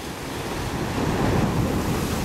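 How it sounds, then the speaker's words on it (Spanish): Ocean waves on the coast of La Réunion roar loud and close, a broad continuous wash of surf with heavy wind buffeting the microphone and no other sound. "Y esas olas."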